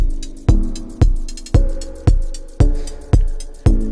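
Heavy, crunchy drum hits pushed hard through the Airwindows Tube2 tube saturation plugin land in a steady beat, about every half second, each one thick and saturated with a gritty, compressed tail.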